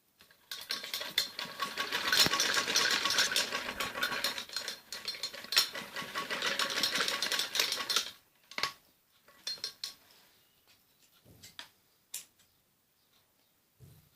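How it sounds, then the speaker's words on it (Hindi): A sewing machine runs steadily for about eight seconds, stitching along a folded fabric edge of a girl's umbrella frock neckline, close and fairly loud, then stops, leaving a few faint handling clicks and taps. "ऐसे मोड़ के इसके ऊपर सिलाई लगानी होती है"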